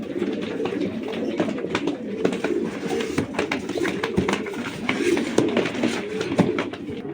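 Racing pigeons, a batch being readied for delivery, coo steadily in a low, throaty, continuous murmur from several birds close by, with scattered wing flutters and small knocks throughout and no talk.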